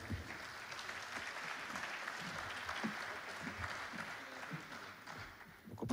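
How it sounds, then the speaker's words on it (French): Steady applause from a crowd, moderately distant and even, lasting several seconds before tapering slightly at the end. "On peut les applaudir."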